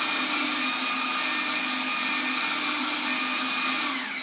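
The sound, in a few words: food processor blending pesto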